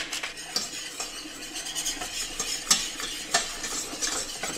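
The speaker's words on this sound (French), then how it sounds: "le beurre mousse, je verse la farine. On va faire cuire la farine comme ça pendant 2-3 minutes" Flour cooks in foaming butter for a béchamel, stirred in a pan: a steady soft sizzle under repeated scraping strokes and light metallic clinks of the utensil, close and continuous.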